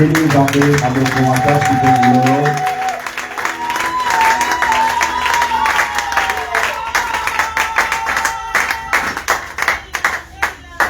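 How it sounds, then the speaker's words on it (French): A church congregation claps and cheers for the Lord at a French-language service, sustained rhythmic applause that follows sung or sustained voices, loud and close, with crowd voices mixed in. "Nous acclamons très fort pour le Seigneur."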